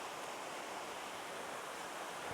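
Steady broadband rushing of a waterfall on a nature photography outing, a constant even wash of water noise with no voices.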